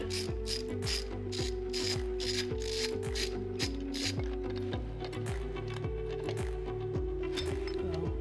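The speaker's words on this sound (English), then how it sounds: "We're going to start by removing these 2 Allen head bolts here to get access to the countershaft sprocket." An Allen wrench ratchets out the bolts on the countershaft sprocket cover of a Honda Monkey motorcycle, a steady run of close, rhythmic clicking pawl strokes with faint metallic ticks.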